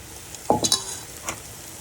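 Carrots tipped into a pan of softened frying onion: a brief clatter and burst of sizzle around the half-second mark, a couple of quick stirs, then a quieter background hiss with one more scrape, close and without talk.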